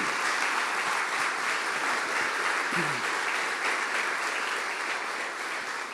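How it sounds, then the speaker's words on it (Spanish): A large church congregation applauds steadily and loudly throughout, a dense continuous clatter of clapping with no pauses. "¿Qué tal si le das un fuerte aplauso a ellos también?"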